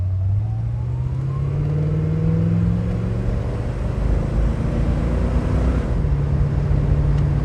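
A 1966 Ford Fairlane 500 XL convertible driving, its engine a loud, continuous drone with gear-change pitch shifts as it climbs through the revs, steady and close with no speech.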